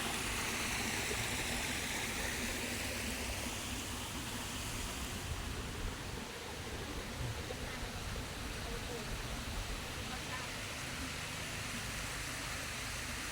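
Water circulates through a temple water feature with a naga serpent sculpture, a faint, steady, even rush of flow from start to finish.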